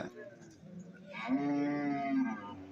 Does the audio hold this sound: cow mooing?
yes